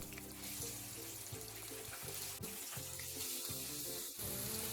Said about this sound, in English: take the potatoes out of the freezer and return them to the hot oil to fry a second time